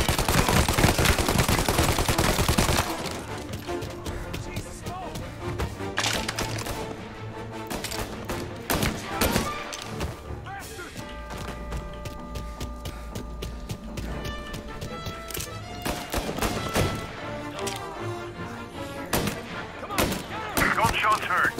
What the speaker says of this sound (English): Gunshots heard. Please respond.